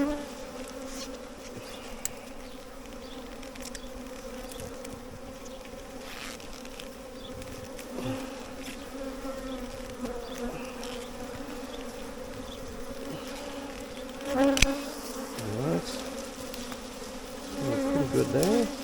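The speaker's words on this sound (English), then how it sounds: "in order to capture those bees" A swarm of honey bees buzzing steadily for nearly twenty seconds, a close, continuous drone with occasional louder swells and handling bumps toward the end.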